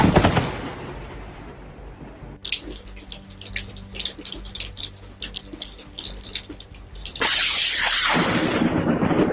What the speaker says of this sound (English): In Missouri, lightning hits a green target, striking a tree in an instant